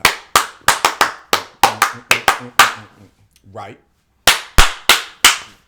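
Sharp, close hand claps in quick irregular bursts on a talk show set, a brief spoken word in the middle, then another run of crisp claps.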